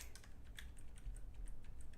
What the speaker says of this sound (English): I'm just typing in names because I don't remember the hex codes